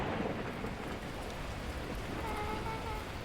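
Torrential rain with thunder in the video game Beacon Pines, a dense, steady downpour hissing continuously at a fairly low level, with a faint low rumble beneath.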